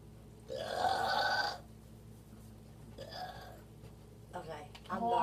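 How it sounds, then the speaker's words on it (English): A woman lets out a long, loud burp, then a shorter, softer one, with a brief voiced sound at the end, close to the microphone in a quiet room. "Burps louder."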